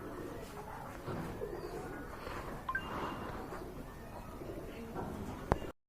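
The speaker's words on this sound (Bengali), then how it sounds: "খুবই সুন্দর আর বড় সাইজের কবুতর" Soft, low cooing of large pigeons at a pigeon sale, against a muffled background murmur, with a few faint rustles and a brief click near the end.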